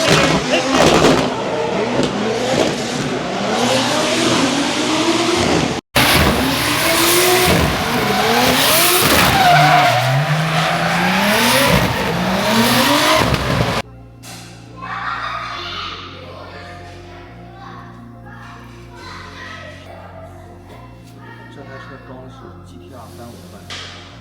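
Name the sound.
drift car skidding and tire squeal during testing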